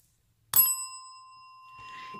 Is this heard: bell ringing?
yes